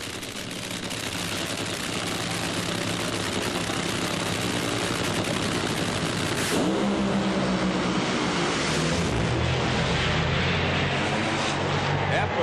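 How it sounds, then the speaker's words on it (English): NHRA Funny Car drag racers scream down the strip at the 1999 Supernationals in Houston, a sustained loud, crackling nitro engine roar with a pass shifting partway through, as a commentator talks over it. "and John Force goes 484 at 318 miles an hour"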